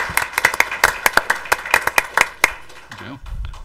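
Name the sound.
audience applause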